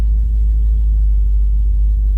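A 1967 Chevrolet Bel Air (Impala) engine idles with a steady, deep, rumbling exhaust note, loud and close, with no talk over it.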